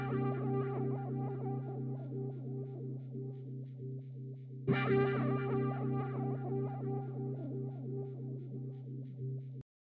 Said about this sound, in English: it's actually a bass synth, and it has a really cool sound to it.